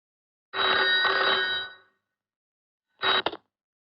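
A telephone rings in a Hindi comedy film: one long clear ring, a pause, then a short second ring, loud against silence.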